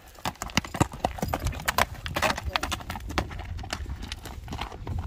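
A horse's hooves clip-clop at a walk, a rapid series of sharp, close knocks with uneven rhythm over a low background rumble.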